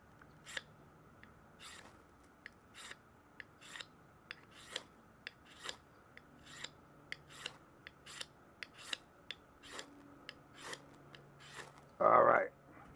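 The coating is scraped off a ferro rod in a series of short, dry rasping strokes at a steady rhythm, close and fairly quiet, followed by one louder burst at the end.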